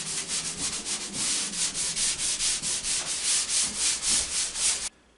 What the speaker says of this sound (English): you can use sandpaper or a damp sponge to smooth out any ridges or knife marks